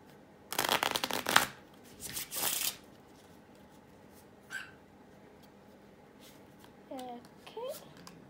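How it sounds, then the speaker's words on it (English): Two quick riffle shuffles of a deck of playing cards, crisp and close, followed by a small dog whimpering a few times. "I will shuffle the cards real quick"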